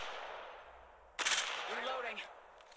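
A short burst of gunfire in Apex Legends Mobile, a sharp sudden onset followed by a fading ring, fairly faint, with a voice speaking around it.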